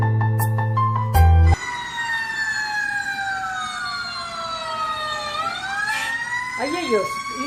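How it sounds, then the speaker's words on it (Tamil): A loud wailing ambulance siren sweeps steadily up and down, passing close by, with a brief horn blast near the start. "என்ன இது ஆம்புலன்ஸ் பெரிய சத்தத்தோட வருது"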